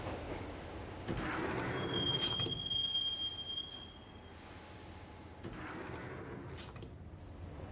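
Subway train interior in the video game Max Payne, heading to Roscoe Street Station: a steady rumbling ride with a high metallic wheel squeal that rises in the middle, then settles back into even rolling noise.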